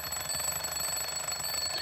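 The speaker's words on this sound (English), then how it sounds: "use this alarm clock as our alarm" An alarm clock standing in for a locked caravan's motion-triggered alarm rings continuously, a steady, loud electronic tone with high sustained pitches filling the whole stretch, with no voices.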